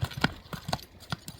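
Hooves of a horse clip-clopping on hard ground, a string of sharp uneven knocks in a loose walking rhythm, close by and clear with no talk.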